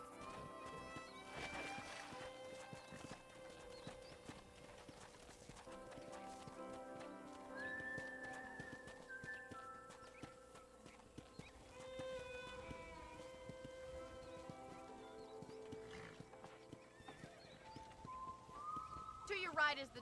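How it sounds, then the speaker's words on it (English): Horse hooves clip-clopping with a whinny in Red Dead Redemption on a ranch, set under a voice speaking and game music, mid-level and steady throughout. "I picked out a fine horse for you."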